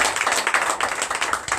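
A congregation claps together at a night deliverance church service, a dense, fast, steady patter of many hands that stays loud throughout this short burst.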